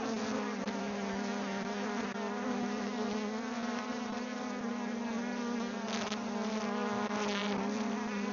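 Honey bees swarm around an open hive on a maple farm as it is worked with smoke, making a dense, continuous close-up buzzing hum that fills the whole stretch without any talking.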